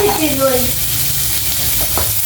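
A spoon stirs food in a pan, with scraping and soft sizzling in a short close burst. Other sounds are faint against a steady background hiss.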